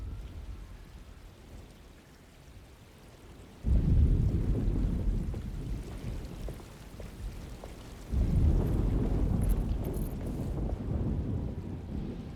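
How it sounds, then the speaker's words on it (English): A thunderstorm in the horror video game Alone in the Dark, with steady rain under two heavy rolling thunder rumbles that break in suddenly and fade slowly, no speech. "Just keeping an eye out for the storm."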